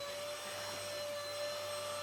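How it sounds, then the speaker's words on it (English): Steady, close drone of a vacuum cleaner used to groom a cat, with a constant motor whine and airy hiss running unbroken throughout. "I've even got one cat that doesn't mind being vacuum cleaned."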